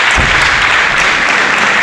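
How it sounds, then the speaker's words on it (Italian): Loud, close applause from an audience at a food and cinema event as a farm producer is called to the stage, a dense, continuous roar of clapping. "un bel applauso, lo merita"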